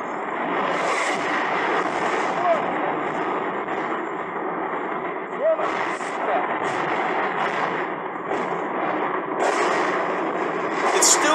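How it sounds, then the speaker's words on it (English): Rockets launching and artillery fire booming in the distance during wartime, heard as a continuous rumbling roar with repeated thuds and blasts spread across the scene. "We can now hear another rocket flying off."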